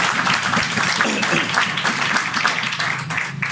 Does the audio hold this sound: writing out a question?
no